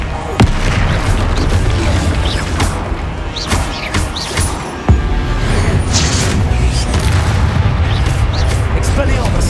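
Booming blasts and crashing impacts from a blasting curse in Hogwarts Legacy, cast amid other spell-combat effects, loud and repeated over a dense battle background with a sharp hit near the middle.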